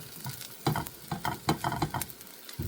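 A cheese omelette frying in a pan, heard as a close crackling sizzle with quick bursts of spatter and small scraping sounds.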